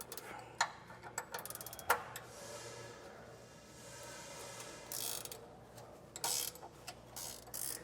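A hand ratchet works on 13mm bracket bolts under a 2015 Toyota, giving soft clicking bursts at irregular intervals with quiet gaps between them.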